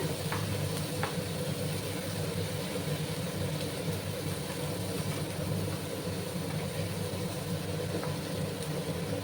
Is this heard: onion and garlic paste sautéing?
yes